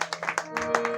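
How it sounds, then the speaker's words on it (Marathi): A short burst of hand clapping at a bhajan performance, several quick sharp claps in an uneven rhythm over a sustained musical drone. "त्याच्यासाठी टाळ्या वाजवा"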